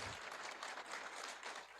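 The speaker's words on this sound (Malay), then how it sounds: "berikan tepukan kepada mereka" A faint, distant wash of crowd applause at a political gathering, dense and even, lasting under two seconds without clear individual claps.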